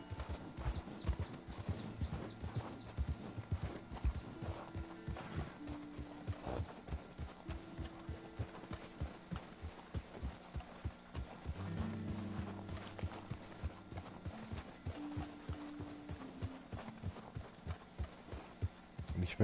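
Horse hooves clip-clopping in a steady rhythmic gait while riding in the video game Red Dead Redemption 2, continuous and moderately close, with low game ambience beneath.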